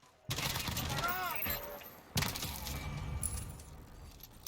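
Quick bursts of carbine gunfire in a video game, two fast crackling volleys close by, with metallic casing and ricochet tinkles and a voice talking faintly under the shots.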